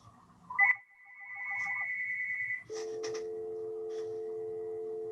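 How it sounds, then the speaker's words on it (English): A phone rings during a planning commission presentation: a steady electronic ringtone tone sounds, then shifts to a lower sustained ring with brief chirps, loud and close with no talk over it. "of all times to get a phone call right in my presentation"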